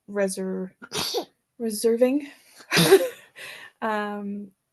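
A single sharp sneeze bursts out between stretches of close conversational speech.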